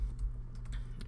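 Keys on a computer keyboard are tapped in a short burst of quick, light clicks at close range over a low steady hum, while entering an error message into a GitHub issue form.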